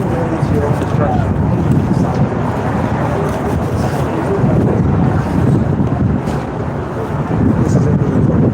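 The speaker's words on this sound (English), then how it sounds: "It's just too fucking windy." Strong outdoor wind buffets the microphone in a loud, continuous low rumble that surges and eases slightly, with no clear voice above it.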